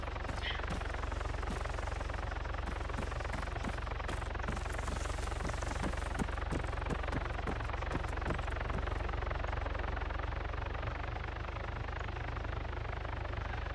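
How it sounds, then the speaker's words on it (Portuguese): A helicopter lands in the Arma 3 military game, its rotor producing a loud, continuous thumping drone with rapid blade chop throughout, steady and close, with no voices. "Olha que dificuldade o cara tá tendo pra pousar um helicóptero."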